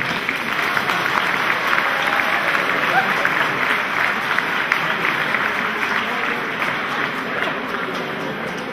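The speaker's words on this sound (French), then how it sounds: "à M. Jean-Jacques Réal, que l'on applaudit très fort." Steady, sustained audience applause fills the hall at the 2014 Chariots d'Honneur award ceremony as an honoree is recognised, dense and even throughout with no break.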